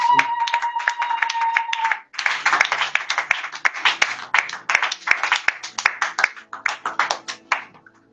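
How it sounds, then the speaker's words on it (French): Church congregation clapping, sparse and close at first, then a rhythmic run of bursts that pause, resume and fade near the end, with a sustained tone heard early on. "Nous nous levons et nous applaudissons au nom de Papa."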